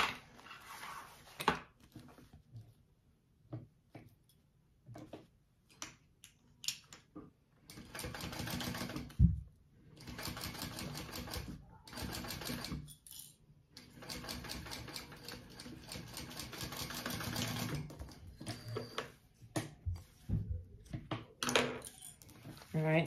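Sewing machine stitching the lining into a crossbody bag, running in several bursts of rapid mechanical whirring separated by pauses, with occasional clicks and handling noises between them.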